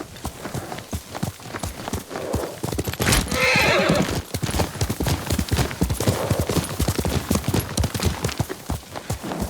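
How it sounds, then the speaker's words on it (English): A horse in the video game Ghost of Tsushima whinnies loudly over a steady clip-clop of hooves, with the neigh standing out near the middle above a busy, close, continuous trot. "Yuriko's horse."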